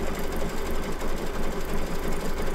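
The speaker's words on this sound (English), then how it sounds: "let me get the stitching" An embroidery sewing machine stitching a mug rug with zigzag stitches runs with a steady, rapid mechanical chatter and a faint rhythmic pulse, loud and close, with no talking.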